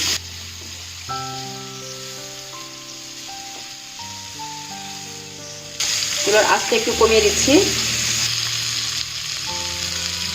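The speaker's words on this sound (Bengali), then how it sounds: "আমি এবার এগুলোকে এক এক করে উল্টে দিচ্ছি" Oil sizzles and crackles steadily as large prawns fry in a pan and are flipped, while music plays, the frying growing louder midway as a voice speaks briefly.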